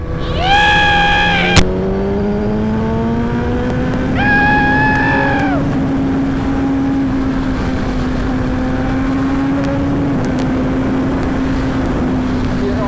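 A 1000cc motorcycle overtakes at speed, its high-pitched engine note climbing sharply in short revving bursts before settling into a loud, steady drone that passes close by.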